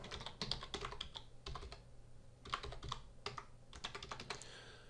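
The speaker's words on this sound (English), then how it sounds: "all I need to do now is type in my YouTube URL." Quick, uneven keystrokes on a computer keyboard as a web address is typed, a steady run of close, crisp clicks over several seconds with brief pauses and no voices.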